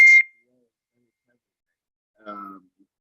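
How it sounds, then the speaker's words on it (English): A short electronic beep sounds near the start of a recorded conversation, clear and close, before falling silent; later a brief voice is heard. "There was some beeping sound."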